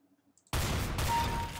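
A single loud gunshot from the video game CS:GO bursts in abruptly after near silence, followed by a sustained, dense rush of sound that fills the rest of the moment.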